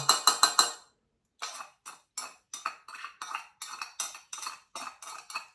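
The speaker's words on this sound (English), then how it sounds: "Give that a little stir, make sure we've got all the sugar." A spoon clinks briskly against a glass while sugar is stirred into homemade apple and mango cider, a quick burst of rapid taps followed by a pause, then a steady run of sharp, close metallic clinks.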